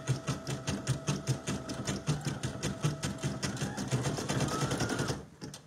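A Brother PE 800 embroidery machine stitching an in-the-hoop ornament, running a fast, even rhythmic chatter of needle strokes that stops abruptly near the end.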